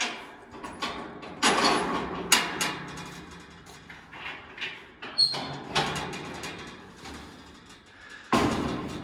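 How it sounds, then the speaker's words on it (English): The ramp back door of a Hartnett single axle trailer is dropped and worked, giving a series of metallic bangs, clanks and thuds at irregular intervals, close and fairly loud, ending with a heavy slam. "We will now just give a little demonstration of dropping the door."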